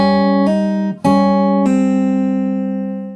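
Fingerstyle acoustic guitar plays a short phrase from a song: three plucked chords or notes, each ringing with clear harmonics, the last left to sustain and fade, close and alone with no voices.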